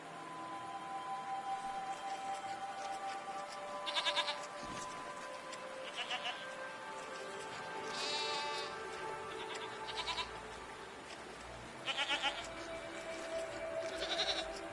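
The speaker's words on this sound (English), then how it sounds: "What are these strange goat-like creatures? Are they simply goats?" Goat-like creatures in the video game Season bleat in short repeated calls, several spaced bleats over a steady soft background tone, fairly close and clear.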